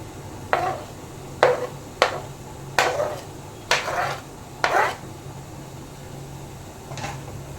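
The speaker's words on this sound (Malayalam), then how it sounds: "ഇനി നമ്മൾ ഈ ബൗളിനകത്തോട്ട് ഈ തൈരിൻ്റെ കൂടെ നമ്മൾ നേരത്തെ അരിഞ്ഞ് വെച്ചേക്കുന്ന ഉരുളക്കിഴങ്ങ് ഇട്ട് കൊടുക്കാം" Chopped potato pieces dropped into a bowl of curd land as six or seven separate soft knocks in an uneven rhythm, close and fairly quiet over a faint background hum, with no talking.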